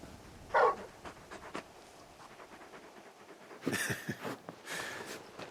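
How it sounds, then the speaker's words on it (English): A large dog in the Final Fantasy XVI video game pants and gives soft whimpers in short bursts, a couple of them louder and breathier, with no voices over them. "You're just a big puppy, aren't you? A very big puppy."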